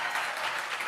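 A live crowd at a gaming showcase cheers and applauds in a steady, fairly distant wash of clapping, with no talk over it.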